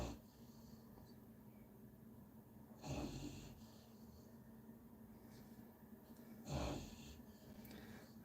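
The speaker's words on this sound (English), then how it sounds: "A snoring pup in the background." A puppy snores faintly in the background of a quiet room, with two soft snorting breaths several seconds apart over a low hum.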